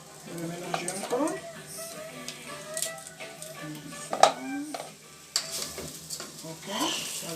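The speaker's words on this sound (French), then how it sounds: "Je vais mélanger encore." Rice being stirred in a pot in a Haitian kitchen, with scraping spoon strokes and a faint sizzle, while a person talks over much of it.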